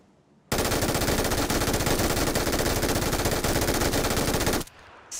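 An MG3 light machine gun in PUBG fires one sustained rapid burst of about four seconds, loud and close, then cuts off abruptly with no talk.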